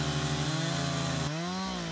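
A chainsaw runs steadily at close range with a buzzing, harmonic-rich drone, its pitch rising as the engine revs, while logs are cut up during trail clearing.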